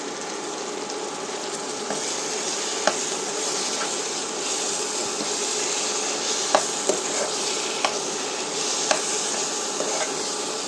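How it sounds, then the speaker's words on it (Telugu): Potato, cauliflower and carrot pieces stirred in a hot pan for pav bhaji, giving a steady close sizzle with scattered spoon scrapes and clicks against the metal; no one speaks. "ఇప్పుడు మనం దీంట్లో పొటాటో, క్యాలీఫ్లవర్, క్యారెట్ ఏదైతే ఉందో అది వేసేయాలి."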